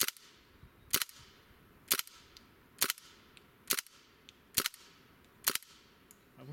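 A KWA MP7 airsoft gun fires single shots at an even pace, seven sharp cracks about one second apart, close by at an outdoor range with no talk.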